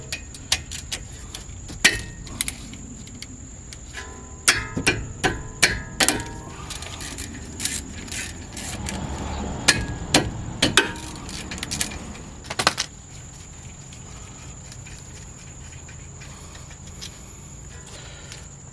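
Metallic clinks and ratchet clatter from removing the 17mm brake caliper bolts on a 2011 Honda Pilot front brake, a series of sharp close taps and jangles, then a quieter stretch.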